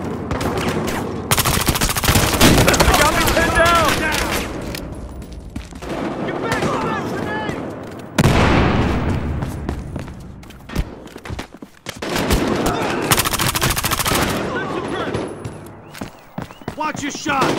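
Dense rapid gunfire from a police heist shootout in the Battlefield Hardline beta comes in loud, sustained bursts with short pauses between them, and shouted voices come through between the volleys.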